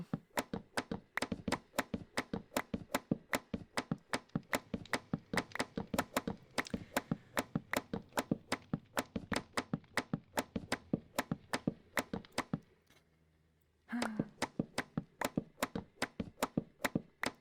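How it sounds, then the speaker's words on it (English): Knife chopping on a board, a steady fast rhythm of sharp close taps that continues for about twelve seconds, pauses briefly, then resumes at the same pace. "I thought that maybe this kind of knives wouldn't stand the massive amounts of chopping that I have to do, but I think they do."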